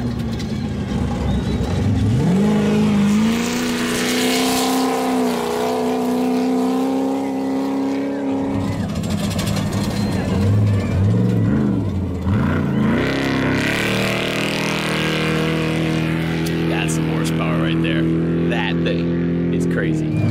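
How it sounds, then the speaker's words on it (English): Giant off-road race trucks tear across desert whoops at high speed, their engines roaring steadily and loudly with repeated rising and falling revs, and a voice may be heard at times. "They're ripping it up on huge whoops out here, and they're going super fast through the desert."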